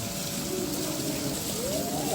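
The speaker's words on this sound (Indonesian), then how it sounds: "Ah, di sini ada air terjun ternyata. Nih, ada air terjun." Waterfall at a zoo in West Sumatra, a steady broadband rushing and splashing wash heard close and continuous, with no break across the moment.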